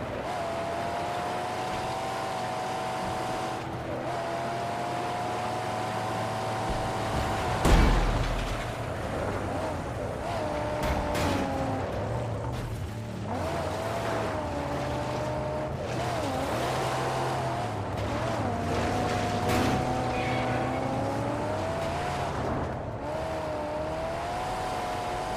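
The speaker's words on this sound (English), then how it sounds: "Let's take this car out while we're at it." Car engine from the Mad Max video game drones steadily as the vehicle is driven, its pitch rising and falling with revs, with one loud thud partway through.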